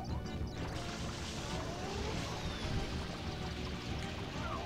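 Water spraying in Super Mario Sunshine, a continuous rushing hiss and splatter held at a steady loud level throughout, with no talking.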